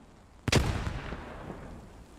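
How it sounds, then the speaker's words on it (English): A grenade blast in the World War II shooter Post Scriptum lands as one sudden heavy thump with a rumbling tail that fades over about two seconds, fairly close and with no voices. "Good grenades over the wall there by Shaw."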